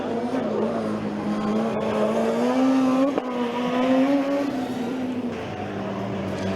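Formula Student race car from the TU Hamburg team running on track during the 2018 endurance session, a steady, fairly close mechanical drone whose pitch rises and falls slightly as it holds throughout.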